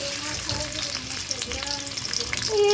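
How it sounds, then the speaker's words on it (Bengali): Chopped onion hits hot oil in a wok with a loud, crackling sizzle that stays strong and swells toward the end, with faint tonal background sounds. "তেল গরম হয়ে গেছে এখানে এখন পেঁয়াজ কুচি দিয়ে দিব"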